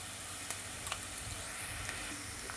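Chopped onion fries in a pan with a pinch of salt while cooking a mixed vegetable dish, giving a quiet, steady sizzle with a few faint ticks and crackles scattered throughout.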